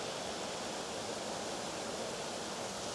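A waterfall and stream in Waterfall Country, South Wales, give off a dense, unbroken rushing roar, close and steady throughout, with no voices.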